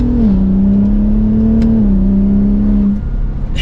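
A 2023 Ford F-150 Raptor's 3.5-liter V6 revs and pulls loudly up through second gear, its deep steady drone holding strong and close before easing off.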